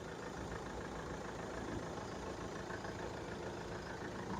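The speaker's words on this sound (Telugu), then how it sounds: "ఇంజిన్ కూడా ఎంత స్మూత్ ఉందో చూడండి సార్" A Mahindra XUV500 W10 engine idles steadily, a faint, even low hum with no change in pitch throughout and no one speaking.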